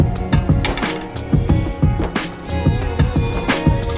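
Sesame and poppy seeds dry roasting in a hot wok give bright, sharp rattling clicks and scrapes, loud and close, in quick irregular bursts as they are tossed and stirred.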